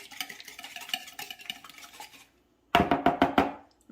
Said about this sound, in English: I'm gonna grab my whisk and I'm gonna pre-whisk those here just a little.